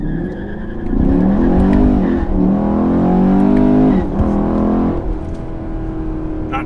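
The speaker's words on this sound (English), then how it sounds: "So I'm gonna do a 0 to 60 pull in manual mode right here." A Chevrolet Camaro or Corvette with an 8-speed automatic in manual mode launches from a stop in a 0-to-60 run, the engine roaring close and loud with rising pitch through a couple of upshifts, tires briefly squealing, then settling.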